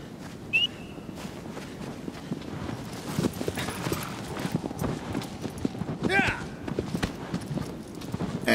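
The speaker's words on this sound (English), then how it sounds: "And that was the cool way to get on the horse." Horse hooves clip-clop in a steady rhythm in the video game Shadow of the Colossus, while someone talks over them throughout.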